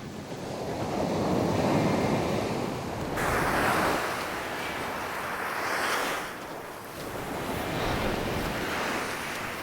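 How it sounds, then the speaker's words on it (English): Steady sea breeze wind gusting at the shore where someone is fishing, with surf washing in continuously and wind buffeting the microphone; no voices. "the sea breeze has kicked in now"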